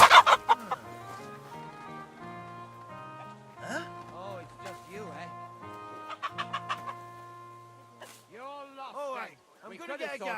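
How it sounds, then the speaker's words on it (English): Chickens clucking in the medieval game Kingdom Come Deliverance, a run of short bird calls and clucks with rising chirps near the end, set against a steady low musical drone. "and last but not least, the almighty chicken"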